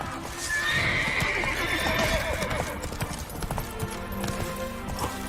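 A horse galloping in The Witcher 3, its rhythmic hoofbeats joined by a loud neigh near the start, with game sounds mixed underneath.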